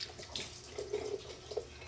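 Water from a kitchen tap runs and splashes during dishwashing at home, a soft, close, continuous trickle with a few brief clinks and splashes.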